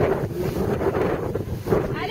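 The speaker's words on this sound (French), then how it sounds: "Le vent me déporte." Wind gusts outdoors at a horse riding session, buffeting the microphone as a continuous rough rumble that swells and dips, with faint voice-like sounds underneath.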